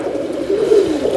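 A pigeon held in someone's hand gives a low, throaty coo, rolling and close, softly pulsing over a second or so with no other sounds.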